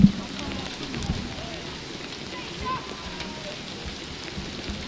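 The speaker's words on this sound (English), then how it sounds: "Rain is starting to come down" Rain starts coming down during a 2011 youth baseball game between the Lions and Rotary, making a steady, soft outdoor hiss with no speech.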